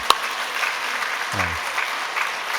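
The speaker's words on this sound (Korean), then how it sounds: "우리 따뜻한 박수로 축복하겠습니다" A church congregation gives warm applause, a soft steady patter of many hands at moderate distance, with a sharp knock near the start and a brief low voice sound partway through.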